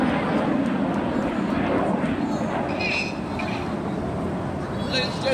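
Red Arrows jets fly a formation display at the Scottish Airshow 2015, a loud, sustained jet roar rolling through, with a commentator's voice sounding over it.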